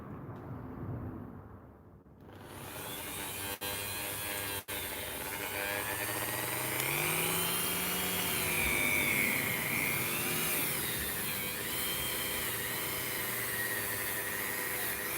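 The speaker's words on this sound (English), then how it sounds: "You want to feel the heat of the polish slowing down the wheel." A polishing wheel spins against a solder joint as it is buffed, giving a loud, steady whirring drone with a shifting tone where the wheel loads up and slows.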